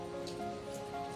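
Light rain falling, a soft, steady patter with faint droplet ticks, quiet and continuous over a low background hum.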